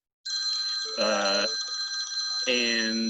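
An indoor telephone rings with a steady, trilling electronic tone throughout, while a voice speaks briefly over it in two short bursts.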